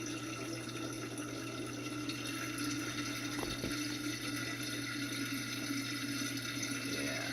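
Water draining through a DIY aquaponics bell siphon, a steady, continuous rushing and gurgling flow with a faint low hum underneath, no speech.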